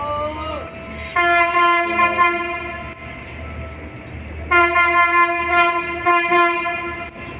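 A train passes near a road construction site, sounding two long, loud, close horn blasts over a steady rumble of engine and wheels.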